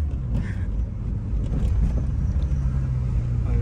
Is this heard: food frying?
no